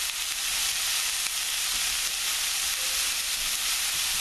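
Food sweating in a hot pan with salt and pepper: a dense, steady hissing sizzle that stays loud and even throughout, with no voices over it.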